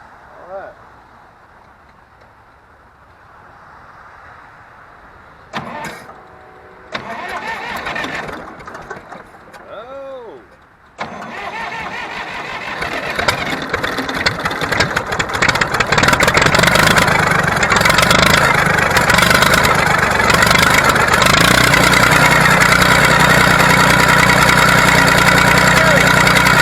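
Hydro-locked tractor engine run without its muffler: cranking attempts and sputters, then the engine catches and settles into a very loud, raw, rapid chattering idle, close up, with someone talking early on.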